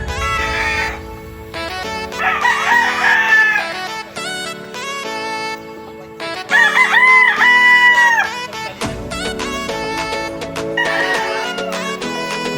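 White pit gamefowl roosters crow repeatedly at a backyard game farm in Abra, loud and close, with several long, overlapping crows rising and falling in turn.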